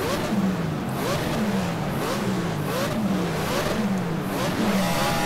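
A BMW Z4 GT3 race car engine in Project Cars at Le Mans, revving loudly and steadily, its pitch rising and falling in repeated sweeps as gears shift, heard alone from the cockpit.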